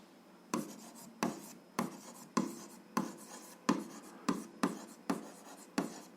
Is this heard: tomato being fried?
no